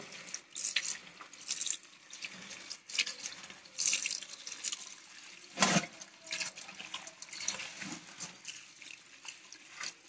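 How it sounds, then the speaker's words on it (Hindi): Vegetables being washed under a running kitchen tap, water splashing and gurgling into the sink in uneven bursts with handling noises, close but fairly quiet. "अच्छे तरीके से इनको धो लूंगी,"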